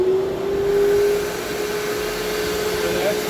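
Festool dust extractor running on its low suction setting, a steady broadband airflow whoosh with a thin tonal whine and a slight pitch rise near the end, close and continuous.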